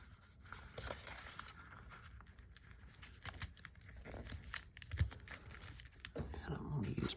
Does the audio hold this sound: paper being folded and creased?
yes